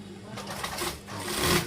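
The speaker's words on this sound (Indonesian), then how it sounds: "Dikasih jahitan dan kita masih menjahit" A sewing machine stitches a kasumedangan blouse in short whirring bursts, close and fairly quiet, with brief pauses between runs and a faint murmur of background sound.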